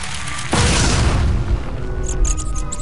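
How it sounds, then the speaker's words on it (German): A wall blasted apart with explosives in an Indiana Jones adventure game, one sudden heavy boom followed by a long, loud rumbling roar that slowly settles, with no talking. "die Mauer kannst du in die Luft sprengen"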